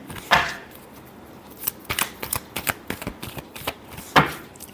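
Tarot cards being shuffled close up: a fast run of crisp riffling flicks and papery taps in irregular bursts, with a sharper snap near the start and another near the end, no talk.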